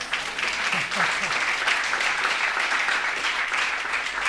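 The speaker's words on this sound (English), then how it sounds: "Round of applause." Audience applause at a science evening event, a steady dense wash of clapping throughout, with a few brief voice sounds early on.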